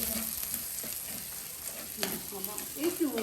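Bamboo worms fry in plenty of oil for a northern Thai dish, making a busy sizzle and crackle with scraping and stirring against the pan, plus faint traces of a voice in the background.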